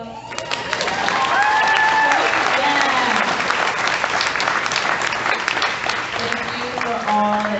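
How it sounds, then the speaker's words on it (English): Sustained audience applause at a business achievement awards ceremony, loud and steady for the whole stretch, with cheering and voices calling out over the clapping. "Can we do another round of applause?"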